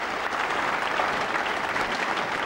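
Spectators at a 9-ball billiards match applaud a table run: a dense, even round of clapping from a crowd that holds steady for the whole stretch.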